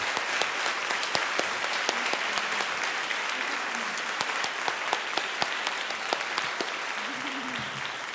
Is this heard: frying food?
no